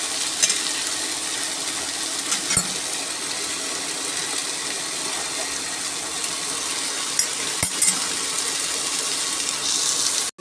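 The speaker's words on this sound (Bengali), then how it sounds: "পেঁয়াজটাকে ভেজে নিয়ে আলু আর ডাঁটাটা দিয়ে হলুদ দিয়ে একটু ভাজা ভাজা করে মশলা দেবো" Onion, potato and vegetable stalks sizzle steadily in a frying pan, with a continuous hiss and a few sharp clatters of stirring. No one speaks.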